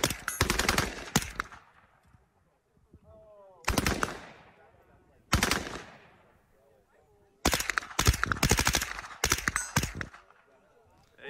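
A machine gun fires four loud, close bursts of rapid shots, each separated by a brief pause with faint ringing and background noise in between.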